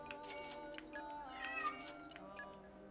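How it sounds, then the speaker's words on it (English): A cat meowing indoors, giving a few faint, thin cries spaced across a quiet background with soft tonal sound. "one of the cats is acting up"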